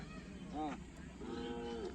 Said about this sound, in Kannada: ಒಳ್ಳೆ ಜಾತಿ ಹಸುಗಳು